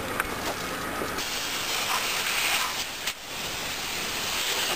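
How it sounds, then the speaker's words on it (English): An air compressor discharges air in a quiet workshop, producing a faint, steady hiss that runs throughout with a brief dip near the end and no voices. "is a slight hiss of discharging air."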